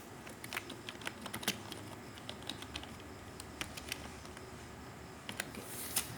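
Quiet typing on a computer keyboard during data entry, a steady run of light clicky keystrokes with a few sharper taps, faint and close over a hissy background, no talking.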